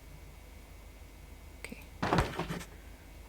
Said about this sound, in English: Why did I hear opening doors?